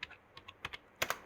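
A short spell of computer keyboard typing while writing Python code: about eight close key taps, irregular and fairly soft, ending on two sharper presses, with no voices.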